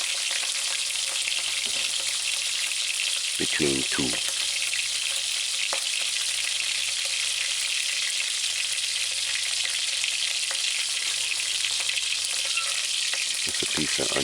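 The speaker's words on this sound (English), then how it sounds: "just add the chicken skin to the frying oil and just let it stay and fry for about a minute" Chicken skin frying in oil for a homemade chicken sandwich, a dense steady sizzle with occasional clinks of stirring and a few soft spoken words.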